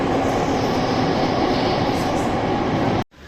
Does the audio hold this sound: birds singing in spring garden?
no